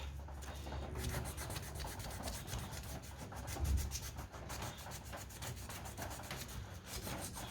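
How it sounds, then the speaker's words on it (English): Sandpaper scrubbing surface rust off a Briggs & Stratton Quantum lawn mower part, a steady, close, rasping rub with rapid back-and-forth strokes running continuously without pause. "I think I've got some sandpaper here, so a bit of rub to clean up the bit of rust."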